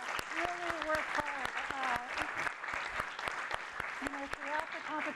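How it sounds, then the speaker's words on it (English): An audience applauds the judges at a university Grad Slam final, a steady round of clapping heard from a moderate distance while a voice talks over it throughout. "I'd like a special round of applause for our judges"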